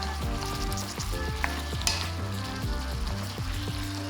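Lamb and fresh onions sizzle in extra virgin olive oil, a loud steady fry with occasional stirring scrapes and clinks, carried over a continuous tonal background melody.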